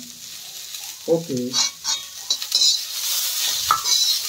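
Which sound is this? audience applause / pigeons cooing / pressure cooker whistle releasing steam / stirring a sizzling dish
stirring a sizzling dish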